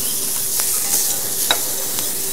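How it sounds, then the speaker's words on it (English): Onion and tomatoes cook lightly in a pan for dhal, a steady loud sizzle broken by a few soft stirring scrapes, with no speech. "Just cook them all together very lightly till they turn soft"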